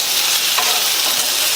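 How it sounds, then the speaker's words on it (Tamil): Peeled raw banana is sautéed with ginger garlic paste in a pan, giving a steady close sizzle with light stirring scrapes throughout, and no talking. "இஞ்சி பூண்டு விழுதோட பச்சை வாசனை போனதுக்கு அப்புறமா தோல் உரிச்ச வாழைக்காயை இதில் சேர்த்துட்டு நல்லா வதக்கி கொடுங்க."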